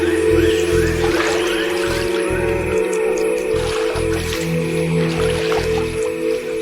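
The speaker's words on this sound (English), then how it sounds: "This skitter across the surface of the water earns it precious seconds" Basilisk lizard skittering across a water surface, its feet slapping and splashing in quick succession, heard beneath a steady bed of music with soft watery squishes and drips throughout.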